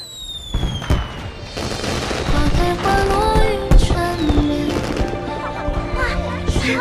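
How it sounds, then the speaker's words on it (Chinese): Fireworks at a flower god festival, a dense run of crackling bursts and whistling rising streaks mixed with music and other sounds, loud and sustained throughout. "是花神节的烟花"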